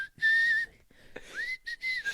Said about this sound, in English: my other one would be the Robin Hood cartoon whistle